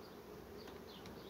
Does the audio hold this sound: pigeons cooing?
no